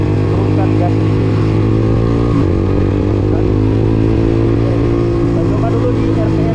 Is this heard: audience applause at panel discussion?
no